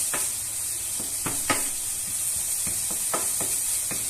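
Pieces of lard sizzling in a pan for carbonara, a steady soft hiss with scattered crackles and pops throughout, close and moderately quiet with no voices.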